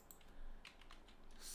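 A computer keyboard is typed on in a short burst of soft, quick key taps that are quiet and close, over faint background hiss, with no talking.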